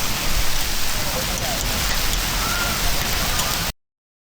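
Heavy rain mixed with hail pours down suddenly on a Barcelona street, a dense, steady hiss of drops pounding surfaces that cuts off abruptly at the end.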